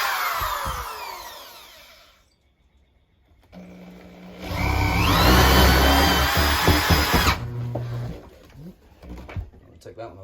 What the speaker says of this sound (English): I'm just pre-drilling the holes large enough for the toggles to actually go through